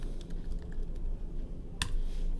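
Password being typed on a computer keyboard: a run of light, quick key taps with one sharper, louder press near the end, close and without talk.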